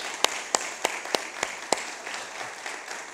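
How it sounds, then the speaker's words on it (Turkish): Applause at a business club marketing summit, opening with a few sharp, distinct claps at roughly even intervals and thinning into lighter, scattered clapping from a modest audience. "onları ben izninizle buradan alkışlamak istiyorum önce"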